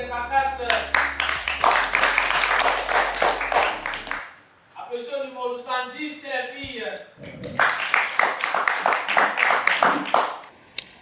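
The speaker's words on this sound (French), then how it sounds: "Applaudissez le numéro 70" An audience claps in bursts at a speed dating event, with a host talking over the applause and a quieter stretch of speech in the middle.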